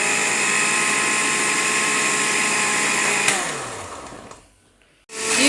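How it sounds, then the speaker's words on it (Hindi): A kitchen blender whirs steadily at high speed, grinding garlic into a paste, then winds down and stops, followed by a faint clatter. "इसको दोबारा ब्लेंड करेंगे।"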